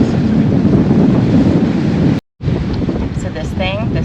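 Heavy seas surge around a sailing boat, with a loud, steady roar of wind and breaking surf that cuts out for a moment, then returns and continues.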